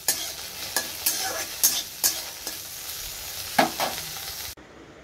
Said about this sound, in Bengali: এখানে হচ্ছে ভেন্ডি ভাজা